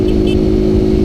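A 2022 Honda Fan 160 motorcycle with an exhaust tuned to sound like a BMW 310, running loud and close with a steady low droning engine note, no audible speech.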